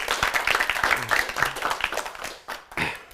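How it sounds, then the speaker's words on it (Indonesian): Audience applause at a Ramadan open mic comedy show on TVRI Maluku, a burst of scattered clapping that thins out, then a brief second swell near the end. "Beta minta tepuk tangan dulu"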